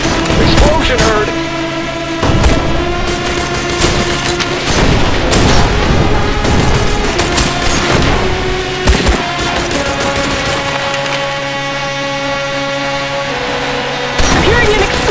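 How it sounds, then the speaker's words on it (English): Loud, dense explosions and gunfire in the shooter game I Am Your Beast, repeated booms and rapid crashing blasts throughout, with talk mixed in. "I'm hearing an explosion."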